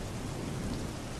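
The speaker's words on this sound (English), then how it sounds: "The rain kept falling. The thunder rolled." Steady rain with a low rolling rumble of thunder in a storm, a continuous close wash of noise with no voices.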